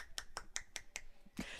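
One hand snaps its fingers five times in a quick, even rhythm, sharp close clicks, followed by a brief softer rustle and a final louder snap-like burst.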